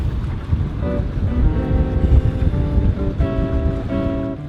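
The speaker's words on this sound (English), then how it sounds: "It was all smooth sailing now, or motoring as usual." Sailboat motoring under engine power through a marked channel, with a steady low motor drone and rushing water and wind noise running continuously and close.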